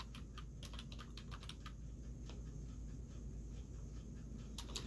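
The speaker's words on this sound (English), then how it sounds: "So you type it in here." Continuous clatter of typing on a computer keyboard while a domain name is entered into a website search, with steady key clicks in irregular bursts over a faint background hum.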